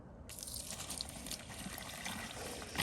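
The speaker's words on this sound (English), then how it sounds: "just water in the hole" Water pours into a freshly dug fence post hole in a garden, a steady splashing and trickling wash that runs continuously at close range, with no talking over it.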